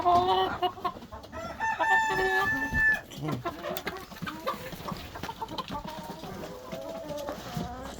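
A rooster crows loudly near the start while hens cluck and squawk around it, their calls continuing in a busy, overlapping chorus.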